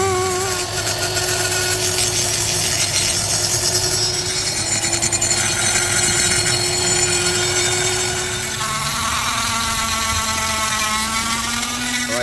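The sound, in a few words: power tool machining intake and exhaust runners of Harley cylinder head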